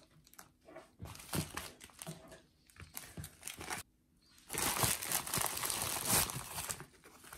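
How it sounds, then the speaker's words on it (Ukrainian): Plastic packaging holding a Sofirn HS10 headlamp is opened by hand, with scattered crinkles and rustles early on, then a louder, sustained burst of crumpling and tearing, close and without talk. "давайте ж відкриємо пакет"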